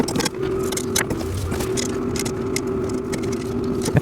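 Bolts being handled while a heavy-duty wheeled metal snow shovel is assembled on a workbench: close metallic clinks and taps over a steady background hum, with no speech.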